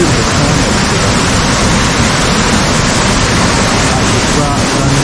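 Loud, constant white-noise roar of water pouring down at Urami Falls in Oku-Nikko in late October, dense and unchanging from start to finish.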